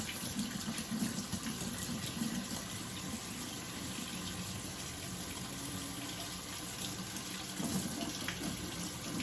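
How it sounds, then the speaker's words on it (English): Hot water runs steadily from a kitchen tap into a sink, a continuous close splashing rush that holds evenly throughout with a slight swell near the end, and no voices. "I'm going to let the water run for a little bit so it can get nice and hot."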